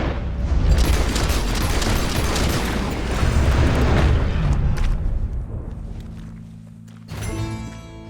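Gunfire and booming blasts in Red Dead Redemption 2 during a tense encounter with a creature, loud dense rumbling bursts for about five seconds that fade out before a brief tonal sound at the end.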